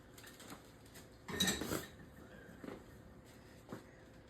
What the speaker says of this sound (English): Just gonna get you a spoon